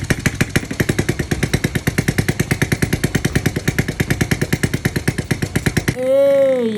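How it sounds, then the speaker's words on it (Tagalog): A motorcycle engine left in storage for five years and gone moldy runs again with a steady, rapid, close putter, then cuts out, followed by a brief tonal sound at the end. "Pagkatapos ng 5 taong na-stock, umaandar na ulit"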